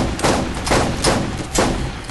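Sniper rifle in Borderlands firing rapid shots, four loud broadband blasts spaced about half a second apart, each with a short rumbling tail, close and unaccompanied by talk.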